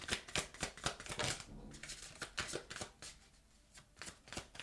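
Tarot cards are shuffled in a quick, steady run of crisp riffling snaps, close and moderately loud, with one card flipping out partway through; no one speaks.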